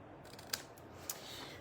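Scissors snip paper for a handmade craft box, two short quiet cuts spaced about half a second apart in an otherwise still room.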